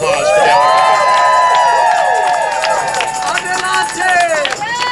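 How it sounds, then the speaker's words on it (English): A crowd at a political rally against a pipeline bursts into loud sustained cheering and applause, with whoops and shouts over continuous clapping throughout. "let's have a big round of applause"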